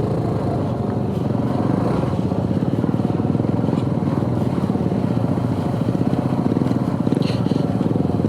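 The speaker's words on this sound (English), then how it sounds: "Here, I'm just spinning the rear tire." A Honda CT125 motorcycle revs hard while its rear tire spins in deep marshland mud, a steady loud engine drone with churning texture throughout.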